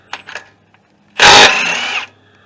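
A power tool spins off the 17 mm ball joint nut on a 2005 Honda Accord lower control arm: one loud, close burst of drilling whir lasting under a second, after some faint clicks and handling taps.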